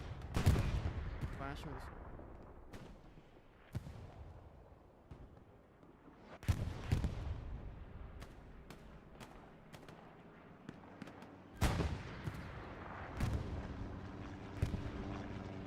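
Artillery fire hitting tanks in a World War II shooter game match on Utah Beach: heavy booming impacts land every few seconds, each with a rumbling decay, among scattered smaller gunshots, while players talk over the battle.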